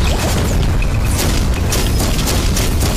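A fire maul attack in the mech-fighting video game Override 2 brings dense booming crashes and fiery roar, loud and continuous with metallic impacts layered throughout.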